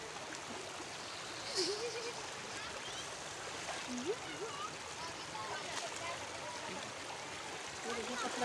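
Steady rushing of a mountain stream fills the background, with faint scattered splashes and distant voices beneath the constant wash, at a picnic spot in Shahdara, Islamabad.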